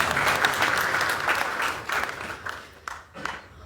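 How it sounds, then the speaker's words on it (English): Audience applause at the launch of an intellectual forum, a burst of crowd clapping that starts full and gradually thins and fades over a few seconds, with scattered last claps. "Can you clap for her?"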